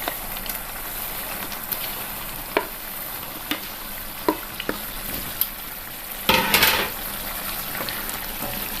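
Fish pieces go into boiling vinegar masala for a fish pickle, setting off a steady close sizzle and bubbling with scattered clicks of stirring and a brief louder spattering burst toward the end.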